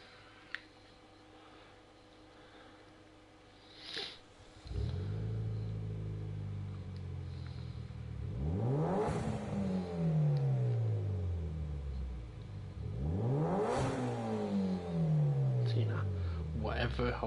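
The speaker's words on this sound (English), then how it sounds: "I would love to know what engine that sound is from, what car that sound is from" Engine of a car in the Gran Turismo Sport racing game on PS4, revving hard in repeated rising and falling sweeps after a quiet start, loud and up front throughout a race.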